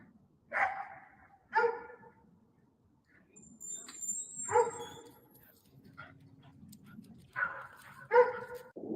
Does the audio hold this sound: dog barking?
yes